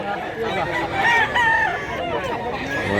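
Gamefowl crowing in Mantalungon, Cebu, with a few short, fairly close rooster crows and clucks over a busy background, brief and loud.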